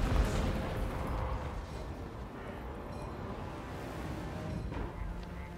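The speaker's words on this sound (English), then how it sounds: "Hellstorm fire batteries still going across the land, shooting everything up" Dense, continuous rumble of distant artillery and rocket fire from Hellstorm rocket batteries in a Total War: Warhammer battle between Dwarfs and Empire armies, a steady low roar with a few faint pops.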